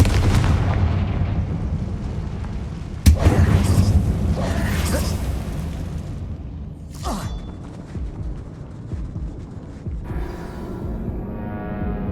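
Two loud, close blasts from the Confringo blasting spell in the Hogwarts Legacy video game go off inside an old mine, each followed by a rumbling, crackling tail.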